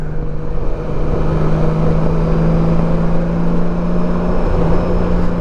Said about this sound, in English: Keeps that engine braking going.